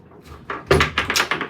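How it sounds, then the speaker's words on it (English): A doubled wooden concertina door on a 28-foot Kim Holman Sterling sailing sloop is folded open in the cabin, giving a quick run of clattering knocks and rattles from hinged panels and a catch, close and fairly loud. "Now this is a doubled concertina door"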